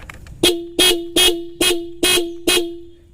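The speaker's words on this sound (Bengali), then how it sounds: "এই হর্নগুলো নষ্ট হয় সাউন্ডটা সুন্দর হয় না" An old, worn horn on a Pulsar motorcycle honks six times in a steady series of short, loud, close blasts, each ringing briefly before the next.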